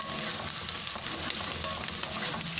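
Hungarian lecsó sausage fries in rendered fat with onions, a loud, steady sizzle and crackle that runs unbroken throughout without any talking.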